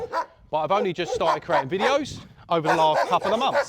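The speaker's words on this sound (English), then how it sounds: "Sorry about the dogs." Several dogs bark and yip in Greece, intermittent and fairly close, beneath someone talking steadily throughout.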